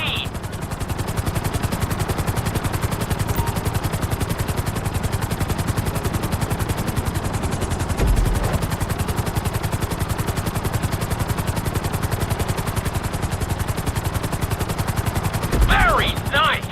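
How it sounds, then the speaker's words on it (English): A helicopter flies in GTA V, its rotor producing a steady, rapid, loud chopping throb that continues without a break, with a couple of brief thuds mixed in. "we'll see how well you handle the chopper"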